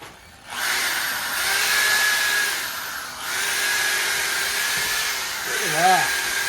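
A power drill driving a Weaver rotary brush on a horse gives a steady whine almost the whole time with a short dip midway, loud and close, and a brief wavering tone near the end.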